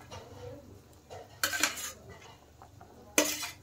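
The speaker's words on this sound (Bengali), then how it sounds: "এখন আমি ভেজে রাখা বেগুনগুলো দিয়ে দেব" Fried eggplant pieces tipped into a pan of curry for a tengra fish dish with potato, two clattering bursts of utensil against metal over faint background noise.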